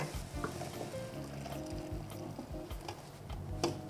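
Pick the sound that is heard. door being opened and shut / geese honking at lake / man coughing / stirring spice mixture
stirring spice mixture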